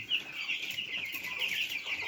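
Broiler chicks in a brooder pen keep up a steady, continuous chorus of high chirping and soft clucking, close by with no talking.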